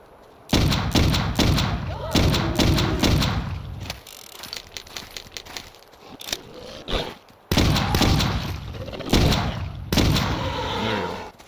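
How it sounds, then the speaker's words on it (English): Revolver shots boom in Clive Barker's Undying, several loud close reports fired in irregular bursts with echoing tails, a quieter stretch midway, then more heavy shots. "We need to use the revolver."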